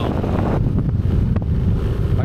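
Heavy, low wind buffeting rumbles steadily against the microphone on a cold, windy day in Da Nang, Vietnam, close and loud, with brief gusty swells.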